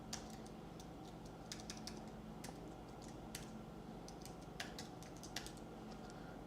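Fingers tap out a login ID on a computer keyboard in a quiet room, the irregular clicking keystrokes coming in small bursts at close range over a faint steady hum.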